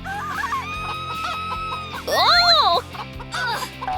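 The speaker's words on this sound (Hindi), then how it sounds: "अल्लाह, मुर्गा बड़ा हो गया।" A big cartoon rooster clucks in loud, swooping, stylized bursts at mid-clip, over a musical background, with a brief exclaimed voice nearby.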